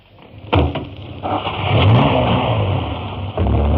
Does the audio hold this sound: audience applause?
no